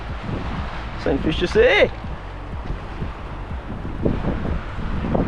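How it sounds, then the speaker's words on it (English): Wind gusting across an exposed shore at Cape York, buffeting the microphone as a steady low rush with a few stronger swells, under people talking close by. "Try and escape some of this wind."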